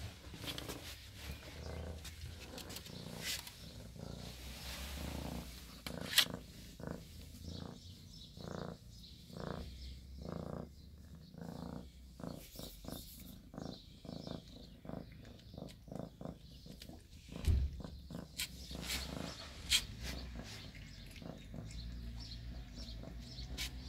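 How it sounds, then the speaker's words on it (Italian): A mother cat recovering from surgery purrs quietly in a steady, rhythmic pulse, low and close, with faint background noise and a few brief bumps. "Mamma gatta ritorna a fare le fusa anche dopo l'intervento."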